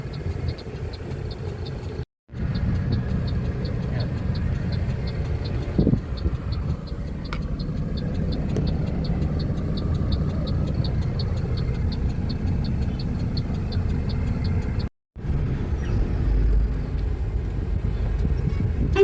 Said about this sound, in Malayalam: ഓട്ടോറിക്ഷയുടെ ബഹളമാണ് കേട്ടോ ഇഷ്ടംപോലെ ഓട്ടോറിക്ഷ ഉണ്ട്